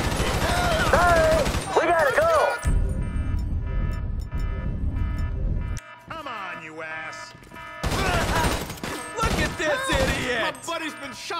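Gunfire in Grand Theft Auto V during a chemical agent infiltration mission, rapid shots crackling under loud game voices and shouting, with a quieter stretch midway.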